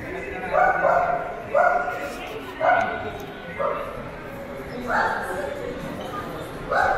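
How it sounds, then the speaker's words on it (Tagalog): A dog barks repeatedly at a distance in the Philippines, short yips spaced about a second apart, over a busy background with people talking. "Aso, ingay."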